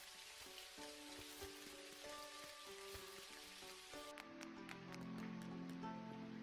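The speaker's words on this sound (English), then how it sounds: "Oh, and it's raining." Rain pattering steadily in the farming game Dinkum, a soft continuous hiss of falling drops under gentle game music tones and chimes, faint and even throughout.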